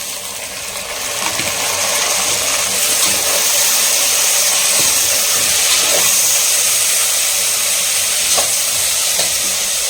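Onions frying in a pan while being stirred, loud continuous sizzle with scraping and clinking of the utensil against the pan, close and unbroken.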